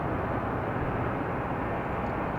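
Commercial jet passing over Atlanta Hartsfield airport, a constant broadband roar of engine noise, fairly distant and steady throughout with no talking.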